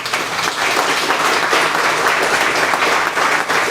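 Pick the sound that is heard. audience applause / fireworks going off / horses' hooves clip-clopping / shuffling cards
audience applause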